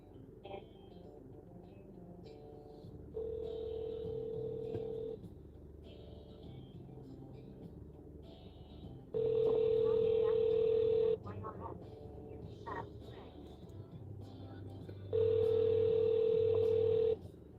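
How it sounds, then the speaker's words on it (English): A phone dials out with a series of short keypad tones, then long steady ringback tones come in repeating bursts, heard inside a car over a constant low engine rumble. "Let me give them a call."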